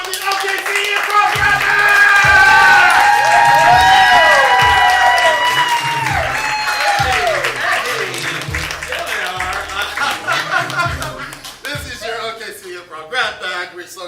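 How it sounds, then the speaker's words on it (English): A comedy improv audience at an OKC Improv show claps and cheers loudly, with whoops rising over dense clapping that builds early, then gradually thins and fades toward the end, with voices mixed in. "Get your hands clapping. Make some noise for the OKC Improv"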